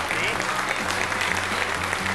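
Studio audience applause on a 1998 Italian TV show, a dense, steady wash of clapping filling the whole stretch with no break.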